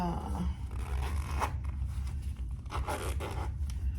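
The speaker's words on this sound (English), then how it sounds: "we're gonna zip it with the lining on the outside." Zipper being drawn along a sewn fabric pouch turned with its lining on the outside, a close, continuous scratchy zipping rasp with small surges, fairly quiet and without talk.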